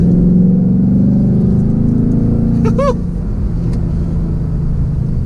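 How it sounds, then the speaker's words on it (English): A 2021 Ford Mustang GT 5.0L V8 drones and pulls steadily under acceleration, a deep continuous rumble with a brief higher whine partway through, close and loud. "I don't know if you can hear that V8, but it sounds good"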